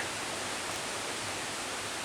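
High Shoals Falls in the Chattahoochee National Forest, heard as a steady, broad rush of splashing water with no pauses, fairly close and uniform throughout.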